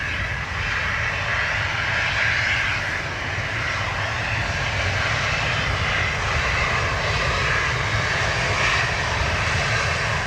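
Ryanair airliner at Dublin Airport, steady broad engine roar holding for about ten seconds at moderate distance during a wet, windy day on the runway, with no talk.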